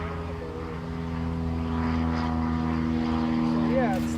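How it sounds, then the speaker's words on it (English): Propeller airplanes drone overhead, a steady low engine hum that grows slightly louder and stays continuous throughout. "it's definitely man, these airplanes, I swear"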